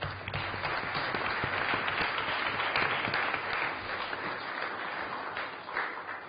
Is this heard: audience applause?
yes